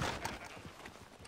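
Faint clip-clop of a horse's hooves in the video game Red Dead Redemption 2, a few soft muffled steps that are low in level.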